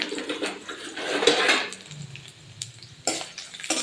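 Garlic frying with dried red chili in a pan for a prawn dish, soft sizzling mixed with a few clinks and scrapes of a utensil against the pan, close and moderately loud.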